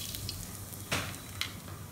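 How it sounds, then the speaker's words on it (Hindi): Asafoetida hits hot mustard oil in a pan for a spiced jackfruit curry tempering, giving a steady, close sizzle broken by a couple of sharper crackling pops, with no voices. "तेल गर्म हो गया है, अब मैं इसमें हींग डालूंगी।"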